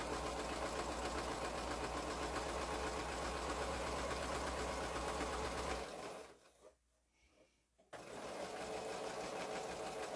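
A sewing machine stitches curved quilt pieces with right sides together, giving a loud, steady, close mechanical whir that stops for about two seconds and then resumes.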